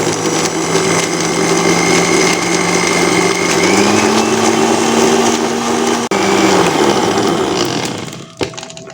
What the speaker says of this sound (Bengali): এবার আমি এটা মিক্সিং জারে ঢাকা লাগিয়ে এটা ব্লেন্ড করব।